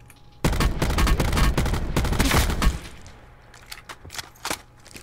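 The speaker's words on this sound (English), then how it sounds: "I'm gonna shoot at these guys that are shooting at them" Automatic gunfire bursts in Call of Duty Blackout, a dense rapid volley of loud close shots for about two and a half seconds, then scattered lighter pops and distant shots trailing off.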